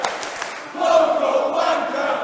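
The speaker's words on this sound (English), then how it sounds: "this crowd in Manchester saying exactly what they think of our champion" A wrestling crowd in Manchester chants loudly at the champion. After brief noise, the massed voices swell into a sustained, rhythmic roar that fills the arena.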